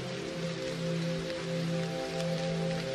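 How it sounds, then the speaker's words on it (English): Steady rain falls in an even, close patter, with soft sustained musical tones beneath it. "Notice how it flows with the rhythm of the rain."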